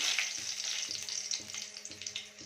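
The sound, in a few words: dried chilies frying in hot oil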